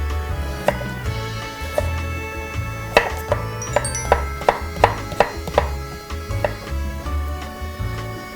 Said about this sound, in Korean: 그냥 다 채 썰어 주시면 돼요.